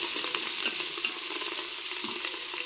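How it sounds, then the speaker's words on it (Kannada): Onions and spices frying for chicken biryani, a bright, steady sizzle with soft stirring scrapes, close up and continuous with no voices. "ಇವಾಗ ಇದು ಫ್ರೈ ಆಗಿದೆ"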